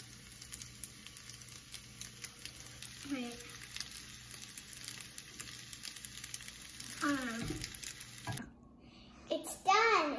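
Fried rice stir-fried in a pan with soy sauce makes a faint steady sizzle with light stirring, a voice chiming in now and then, and a brief quiet gap before the cooking noise returns.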